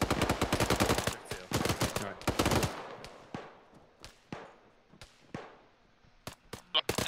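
Video game gunfire rings out as a fast burst of automatic shots followed by scattered single cracks with echoing tails, some near and some more distant.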